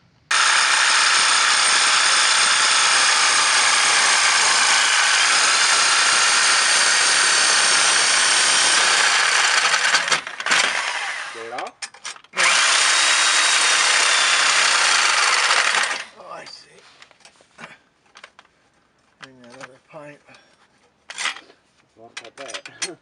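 A power saw cuts through a Mazda MX6 turbo exhaust pipe, a loud, sustained metallic whine that runs for about ten seconds, breaks briefly, resumes for a few more seconds, then stops, leaving faint clatter and shuffling.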